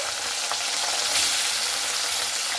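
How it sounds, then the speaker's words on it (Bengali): Small puti fish fry in hot oil, a loud, steady, dense sizzle that carries on without a break and with no voices over it. "বাকি মাছগুলো আমি ওইভাবে ভেজে নিচ্ছি"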